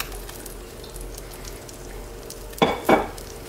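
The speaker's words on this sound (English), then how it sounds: "In my pan, I'm going to add about a tablespoon of olive oil" A tablespoon of olive oil and a large shallot hit a hot pan, bursting into two sharp, close sizzles after a quiet stretch.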